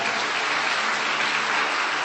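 A church congregation at a Sunday service claps together in a dense, steady wash of applause that stays loud and even from start to finish, with no voices rising above it.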